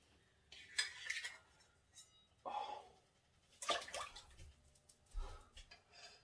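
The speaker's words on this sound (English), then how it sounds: "then I'm going to wash my hands" Hands being washed under a running kitchen tap, intermittent splashing bursts of water with pauses and light clinks between, fairly quiet and close.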